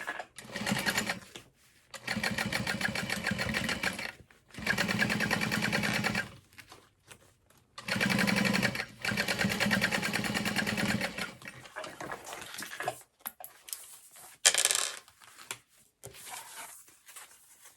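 A sewing machine top stitches a crossbody bag in several bursts of steady, rapid whirring separated by short pauses, with faint handling noises between runs.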